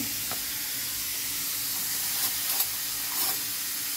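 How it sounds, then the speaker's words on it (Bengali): Raw papaya simmering with sugar in a pan gives a steady, close sizzle and bubbling hiss, with a few soft stirring scrapes and no voices. "এই পেঁপেটা সেদ্ধ হবে চিনি দিয়ে।"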